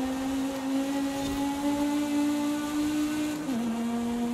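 A V10 super saloon race car engine in a racing game drones at a steady high rev, loud and constant, with a brief dip in pitch near the end as if shifting gear or lifting.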